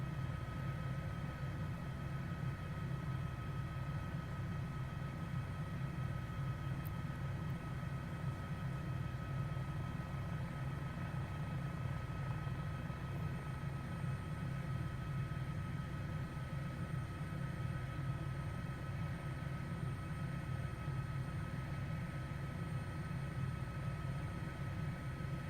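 A helicopter flies in a flight simulator game, giving off a steady, unbroken engine and rotor drone at an even, moderate level for the whole stretch, with no one speaking.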